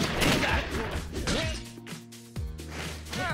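Gunshots and hard impacts in the video game Streets of Fury EX, a couple of sharp bursts mixed with whooshes and game tones, loud and close.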